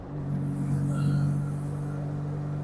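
Fiat X19 engine in a moving car with a quick-shifter gearbox being revved toward 4,000 to 4,500 rpm, a steady droning hum under low road rumble, heard from inside the cabin.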